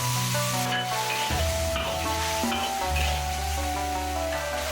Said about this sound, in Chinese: 勾入少许的薄芡，稍许翻炒